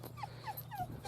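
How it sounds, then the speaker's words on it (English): A dog whines in three rising, high-pitched whimpers, one after another, faint against a low steady outdoor hum at an allotment garden. "Sorry about the whiny dog."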